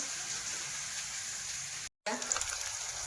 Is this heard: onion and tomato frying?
yes